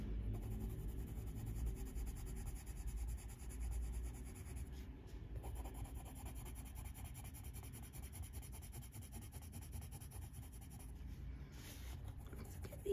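Coloured pencil shading back and forth on textured paper, laying down block colour in a colouring book page of a tortoise, giving a steady, close, continuous scratchy rub throughout with no talking.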